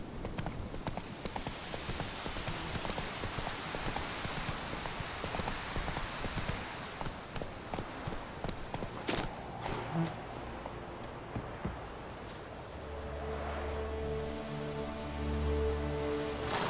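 In The Witcher 3 a horse trots with rapid, rhythmic clip-clop hoofbeats, fairly close, before the hooves give way to a low steady droning tone near the end.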